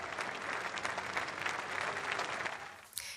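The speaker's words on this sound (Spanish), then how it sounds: "los asistentes al funeral aplaudieron y vitorearon al tan controversial pero inolvidable Silvio Berlusconi." Funeral attendees at a cathedral applaud and cheer, a dense sustained wash of many hands clapping from a large crowd, steady and fairly distant throughout.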